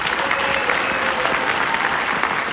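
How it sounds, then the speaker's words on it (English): Parents at a school music event applaud in a steady, dense round of clapping that fills the room, loud and continuous from start to finish with no talk over it. "Parents, round of applause."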